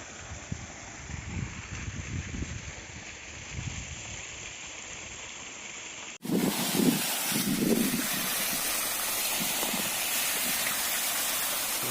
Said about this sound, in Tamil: பாருங்கள் இந்த இந்த அளவுக்கு இதில் தண்ணி வருது